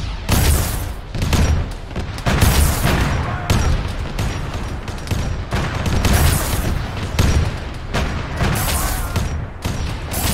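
Gunfire in an Arma 3 video game battle on a Warhammer-themed mission: loud, dense bursts of shots and booming impacts in rapid irregular volleys, nearly continuous across the whole stretch.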